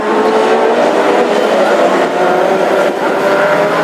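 Classic hot rod race cars roar past on the final lap at Hednesford, a loud, steady engine drone with no let-up.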